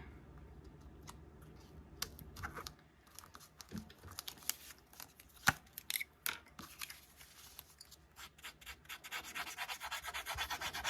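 Paper edges being distressed by scraping them with the edge of a pair of scissors, giving a series of quiet, irregular rasping scrapes and small snips with short gaps, close by and without talk.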